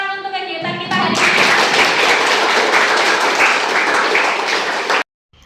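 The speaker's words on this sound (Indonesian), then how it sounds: "Bisa minta tepuk tangan untuk kegiatan kita hari ini." Applause from the audience at a classroom event breaks out after a spoken lead-in. A close, loud burst of clapping lasts about four seconds and then cuts off abruptly.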